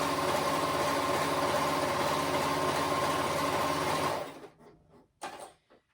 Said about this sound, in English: am using my cover stitch to top stitch